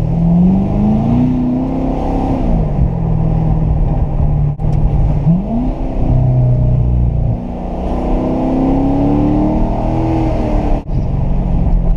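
A 2014 Chevrolet Corvette Stingray engine drones loudly from inside the cabin, pitch rising and falling steadily as it accelerates and shifts through gears, no voices.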